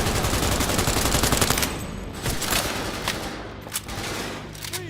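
Rifle gunfire in the video game Cyberpunk 2077, a loud continuous burst of rapid automatic shots that carries on with dense crackling reports and a few sharper single cracks, close and dominant throughout.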